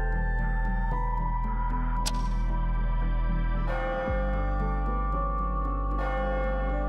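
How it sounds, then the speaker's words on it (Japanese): Clock bell in the video game AI: Somnium Files – nirvanA Initiative chimes at midnight, sounding a series of resonant, ringing strokes that overlap and decay against a sustained low background tone, with no talking. "何この鐘の音。 時計が動いたんだ。 12時。"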